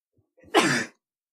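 One sharp, close sneeze from a person reacting to an allergy, a quick breathy intake followed by a loud burst lasting under half a second, with quiet before and after.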